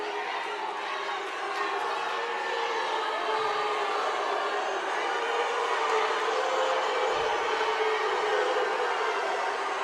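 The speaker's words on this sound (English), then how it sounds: "A lot of boos ringing through the crowd" Crowd booing in a gym during a St. Joseph vs. Whitney Young regional final basketball game, a sustained roar of voices filling the space at an even loudness for the whole stretch.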